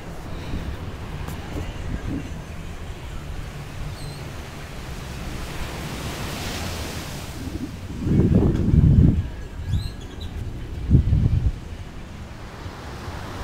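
Gentle surf washes onto an empty beach at Puerto Vallarta, a steady low roar with wind buffeting the microphone and two louder wave surges near the end.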